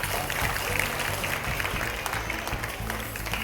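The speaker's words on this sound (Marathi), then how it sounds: "टाळ्या वाजवायच्या." Audience applause at a Women's Day event held by a municipal council, a dense, steady clapping from a crowd that fills the whole stretch with faint voices mixed in.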